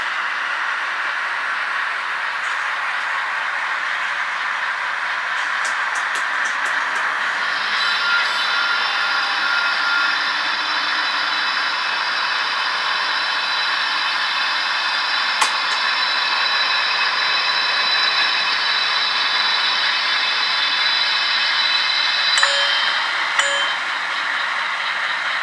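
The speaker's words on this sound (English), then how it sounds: "the High Desert PCC streetcar will be departing the maintenance and restoration facility for" A High Desert PCC streetcar pulls out of its maintenance and restoration facility with a steady, loud rolling hiss. A sustained high motor whine rises partway through, and faint dings and clanks sound near the end.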